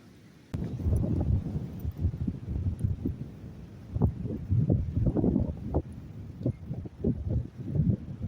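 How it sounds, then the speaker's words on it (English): Strong wind buffets the microphone in heavy, gusting rumbles that rise and fall throughout, loud and close. "it is very windy"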